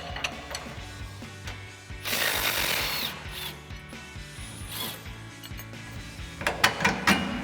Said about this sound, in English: So we'll get in there with an 18mm socket on our impact and a 21mm wrench and get that off.